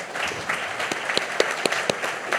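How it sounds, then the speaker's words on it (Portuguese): Brief, fairly faint applause after a talk, with scattered individual claps standing out from a soft wash of clapping. "eu peço mais uma salva de palmas para ela."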